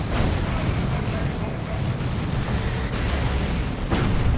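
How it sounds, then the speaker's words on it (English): Cyclone missile launchers firing and exploding in a Dawn of War 2 battle: a dense, continuous wash of rumbling blasts and bursts. A sharper impact comes near the end, with a voice talking faintly underneath. "And the Cyclone Missile Launchers get it done again"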